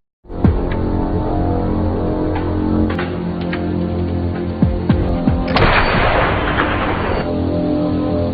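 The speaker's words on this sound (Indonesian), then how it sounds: "Dengan sabar mengawasi mereka berdua dan siap-siap untuk menembak, Sam merekam aksinya" Sniper rifle shots ring out amid a sustained, dense battle soundscape of booms and rumbling artillery-like blasts, with one louder burst of gunfire partway through.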